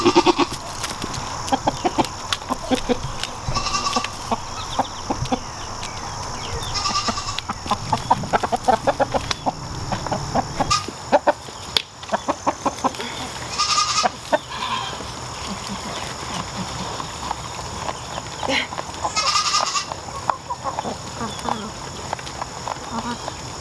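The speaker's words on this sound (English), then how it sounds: "Chickens visiting the goats." Chickens cluck and call around a farmyard while goats and other animals bleat now and then, with a person talking softly through much of it.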